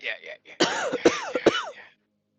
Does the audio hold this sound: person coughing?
yes